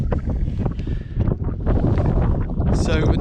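Wind gusting hard across an exposed mountain ridge, buffeting the microphone with loud, uneven roaring that swells and eases over several seconds, with a voice faintly mixed in.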